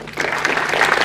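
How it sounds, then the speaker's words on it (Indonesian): A crowd claps at a film press conference, a brief steady patter of many hands filling the room at moderate loudness. "tepuk tangan sekali lagi"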